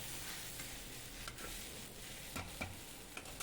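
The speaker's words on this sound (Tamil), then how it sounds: "வெண்டைக்காய் பாதி வதங்கிடுச்சு. அடியில் பாருங்கள், சட்டியில் பிடிக்குது." Native okra stir-fried in a pan, partly wilted and catching on the bottom, gives a constant soft sizzle with intermittent scraping strokes of a spatula, close-up and fairly quiet, no talking.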